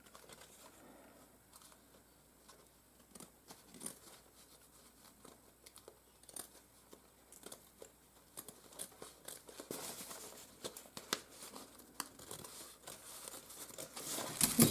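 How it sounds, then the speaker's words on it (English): Scissors cutting excess paper from a handmade faux vintage paper binder, a quiet run of small crisp snips and paper crinkles that grows louder and busier toward the end, close and alone. "Cutting that excess off"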